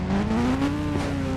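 Motorbike engine revving steadily up close as a ride begins, its pitch climbing slightly then holding in a continuous loud drone.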